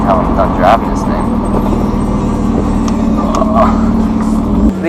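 Cabin of a stripped-down BMW E36 drift car being driven, its engine a steady loud drone with road rumble throughout, while a person talks over it.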